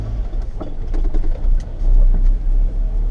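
A Honda CRX Si heard from inside while driving, with a loud, steady low engine and road rumble that swells slightly, close and continuous, no talk.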